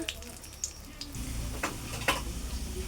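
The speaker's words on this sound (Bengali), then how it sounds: "ফোড়নের জন্য দিয়ে দিলাম দারচিনি, দিয়ে দিলাম শুকনো লঙ্কা" Cinnamon and dried red chillies sizzle in hot oil as tempering for a paneer curry, a steady close crackle broken by occasional sharper pops and stirring clicks, with no talk.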